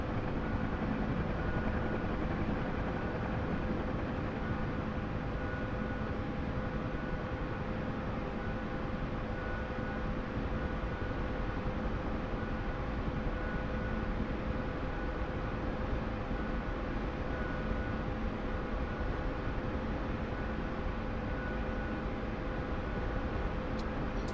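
A Bell UH-1 Huey helicopter drones in a continuous, steady engine and rotor roar with a faint sustained whine, unchanging and close throughout with no talking.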